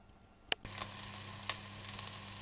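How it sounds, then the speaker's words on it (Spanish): Raw ingredients other than the chicken are sautéed in a pot with very little oil, beginning with a sharp clank and then a steady soft sizzle with faint stirring ticks. "Rehogaremos todos los ingredientes menos el pollo."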